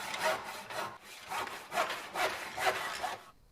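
A 110-year-old restored, freshly sharpened hand saw cuts through wood in about eight steady, rasping push-pull strokes, close and clear with no talk.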